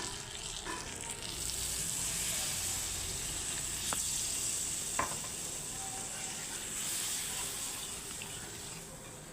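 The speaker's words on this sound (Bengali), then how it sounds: "এখন আমি জল দিয়ে দিচ্ছি" Fried brinjal sizzling steadily in a hot pan after water is poured in, a broad continuous hiss with a couple of sharp utensil clicks midway.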